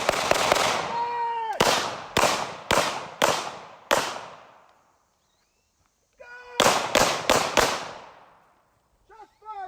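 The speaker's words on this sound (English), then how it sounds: "Shots fired, Central." Gunshots crack during a police off-duty ambush training drill, with a rapid volley, a brief silence, then a second burst of closely spaced sharp reports. A short voice follows near the end.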